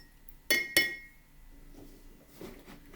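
A spoon stirs a cup of tea with milk, giving two bright, close ceramic clinks in quick succession, then faint soft scraping and swirling.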